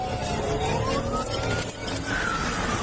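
A police siren wails with rising and falling tones during a car chase, steady and fairly loud over road and engine noise.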